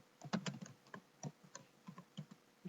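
Close, quiet typing on a computer keyboard as form fields are filled in: a few quick clusters of light key clicks with short pauses between, heard alone.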